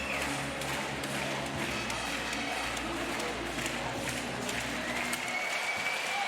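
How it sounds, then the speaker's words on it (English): Sustained crowd applause at a dog agility competition during the medium individual jumping event, loud and steady with no pauses, broad clapping from many hands in an arena. "Big round of applause for Bozena"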